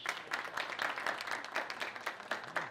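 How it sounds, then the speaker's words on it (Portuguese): Scattered clapping from a modest audience, a steady patter of hands that rises and falls over a few seconds, fairly distant. "então uma salva de palmas para elas"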